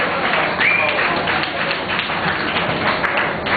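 A comedy club audience claps for a stand-up comedian, a dense, sustained burst of applause that stays fairly loud throughout, with some crowd voices mixed in.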